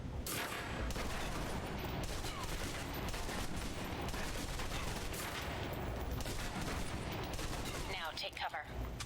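A submachine gun in the video game Alpha Protocol empties a full magazine in one dense, continuous burst of loud rapid fire that runs almost unbroken for several seconds before cutting out near the end.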